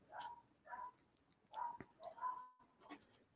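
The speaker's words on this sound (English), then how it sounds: "Stop barking." A dog barks several times at a distance, short yips and barks in an irregular rhythm, quiet and spaced across a few seconds, with a faint thud partway through.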